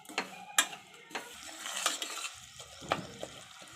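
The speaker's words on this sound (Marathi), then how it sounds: "हा गूळ चांगला परतून घ्यायचा आहे।" Jaggery is stirred and roasted in a pan over a low flame, sparse scraping and clinking spatula strokes against the pan, quiet and close, with no talking.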